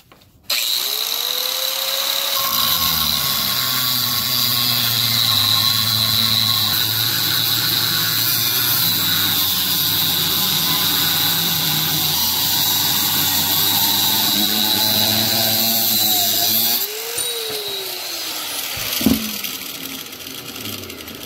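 Power tool cutting a steel pry bar to length, a loud steady high-pitched grinding whine sustained for about fifteen seconds after spinning up, then winding down with a clank.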